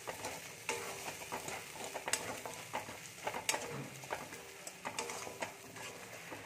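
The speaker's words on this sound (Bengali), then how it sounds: "মশলাটাকে খুব ভালো করে কষিয়ে নেব, না হলে পটলের কাঁচা গন্ধটা থেকে যাবে।" A turmeric-spiced paste for stuffed pointed gourd sautés in a pan, with a soft continuous sizzle broken by frequent sharp clicks and scrapes of a spoon stirring at an irregular pace, close by and with no talk.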